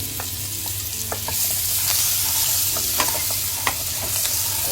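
Spring onion whites fry in butter and oil in a wok for a chicken stir fry, giving a steady close sizzle with a few sharp clinks and scrapes of stirring throughout.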